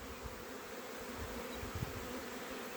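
Angry honey bees swarming at an opened hive while grafting, a dense continuous high buzzing drone from many insects close by, with no talking.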